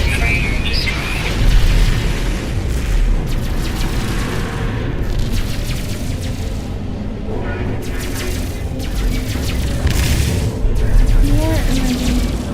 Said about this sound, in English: Civilian freighter destroyed.